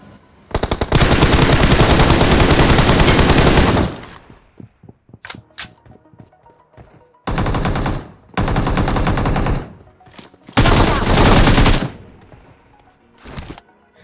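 Gunfire in the BGMI battle royale video game: long bursts of loud automatic fire, separated by scattered single shots, clicks and short pauses.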